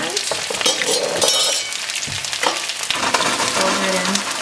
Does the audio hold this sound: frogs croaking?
no